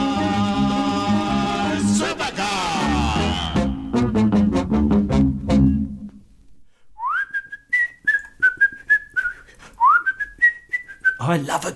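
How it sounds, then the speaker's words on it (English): Whistled solo melody from the Supercar TV theme song, a clear bright tune of sliding, sustained notes following a brief burst of orchestral music, loud and in front with nothing else underneath. "I love a good theme song that's got a whistling solo in it."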